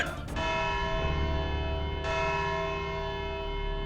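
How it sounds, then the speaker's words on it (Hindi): A large bell rings with a rich, sustained tone, struck again about halfway through, its overtones ringing on loudly without pause. "घंटी बज गई।"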